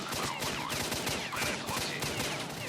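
Soldiers fire on the player in S.T.A.L.K.E.R.: Shadow of Chernobyl on the road to Pripyat, a dense continuous fusillade of rapid gunshots, loud and close, crackling without pause and with no voices over it.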